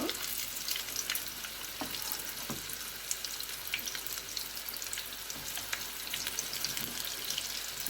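A coconut fish fritter sizzles in oil in a small pan, a steady crackling fry with scattered sharper pops and spits continuing throughout, fairly close and without talk.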